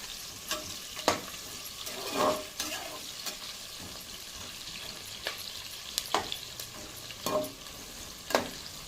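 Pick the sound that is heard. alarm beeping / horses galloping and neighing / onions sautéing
onions sautéing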